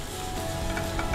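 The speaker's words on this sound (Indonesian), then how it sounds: "Tumis bawang putih sampai wangi." Garlic sautéing in a hot pan for a quick broccoli and mushroom stir-fry, a steady close sizzle with faint stirring scrapes throughout, no voices.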